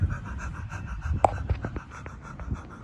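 A voice imitates rapid, panicked mouth breathing, as if fleeing a wolf pack: a quick run of short, breathy pants repeated for a few seconds, close and fairly quiet, with no spoken words.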